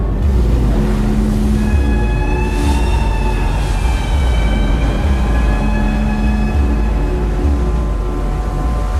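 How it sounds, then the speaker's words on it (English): An eerie whale-based sound representing a U-boat in the film Greyhound: long, wavering, sliding tonal calls over a loud, constant low rumble of engine and water noise, with no talking. "It actually characterizes the U-boats with a really unique, eerie sound."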